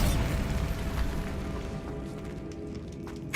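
A Bombarda blasting spell going off in Hogwarts Legacy, a loud close explosive rumble that slowly fades, with a sharp new burst right at the end.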